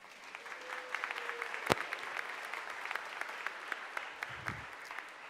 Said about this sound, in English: Everyone give Hallie an applause.